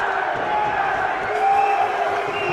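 Arena crowd at a European Box Lacrosse Championship game between Germany and the Czech Republic, a dense, steady roar of disapproval after a referee's push call, swelling slightly midway.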